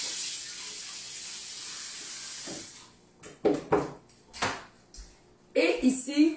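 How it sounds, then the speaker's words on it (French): Tap water runs steadily while hands are rinsed at a kitchen sink during salad preparation, followed by a few short splashes and knocks, with voices talking intermittently over it. "On rince les mains."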